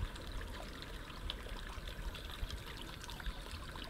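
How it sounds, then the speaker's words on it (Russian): A small neglected stream in a cleared, marshy patch of former woodland trickles and burbles quietly and continuously, faint and close with no voices. "До сих пор ручей течет, но вот он немножко в плачевное состояние пришел."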